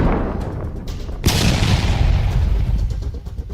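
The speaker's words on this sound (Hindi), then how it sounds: "दनादन रॉकेट्स दागे जा रहे हैं।" Russian multiple launch rocket system firing salvoes of rockets, a continuous loud roaring rumble with a sharp blast about a third of the way in, followed by sustained heavy noise with no voices.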